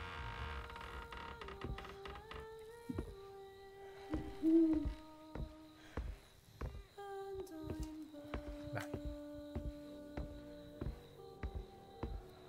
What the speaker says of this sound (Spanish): El 3 es el pájaro.